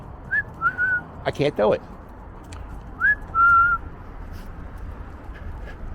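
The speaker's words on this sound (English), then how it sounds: "every time I hear that whistle" A person whistling on a Philadelphia street, a few short rising whistle notes in two bursts over street background noise, with brief talking between them.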